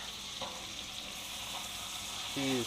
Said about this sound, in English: let the meat side cook just a little bit so that can get goldened up too. Alright, I added some more butter in here